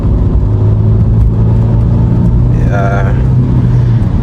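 Cheap BMW with a cracked windscreen, defective shock absorber and 2-litre 4-cylinder engine accelerating under a steady mid-pitched engine drone that slowly builds, loud and close from inside the cabin, with a brief word spoken over it.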